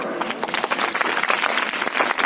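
An audience at an inter-college Islamic quiz claps steadily, producing a dense, continuous patter of many hands close by without a pause.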